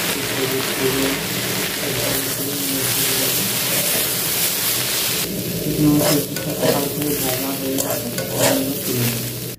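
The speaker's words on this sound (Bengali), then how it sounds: "তেলটা গরম হয়ে গেছে, এর মধ্যে পেঁয়াজ কুচি, রসুন কুচি আর দুটো কাঁচা লঙ্কা দিয়ে দেবো" Chopped onion, garlic and two green chillies hit hot oil with a loud, continuous sizzle and the scrape of stirring, steady throughout with rhythmic stirring strokes in the second half.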